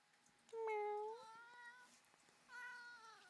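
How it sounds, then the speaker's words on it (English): A cat meows up close: one long, clear, fairly loud meow with a slight upward bend at the end, a short fainter trailing call, then after a pause a second meow, with light handling noises between. "I got a cat. I got a whole cat."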